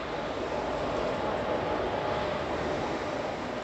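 Balurghat Express hauled by a WAP4 electric locomotive of Howrah shed, a steady loud rumble and roar of the moving train heard close, continuous throughout.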